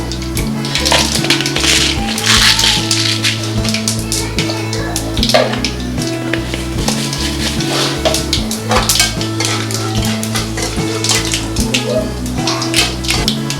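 Mustard seeds, cumin and chana dal fry in hot oil in a pan, giving a steady crackling sizzle with sharp pops and occasional utensil clinks over a constant low tonal backdrop.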